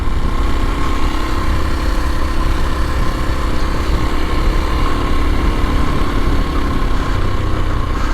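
A 2022 Kawasaki KLX230SE dual-sport motorcycle engine runs steadily at a low, even idle, its rumble constant and close for the whole stretch with no voices.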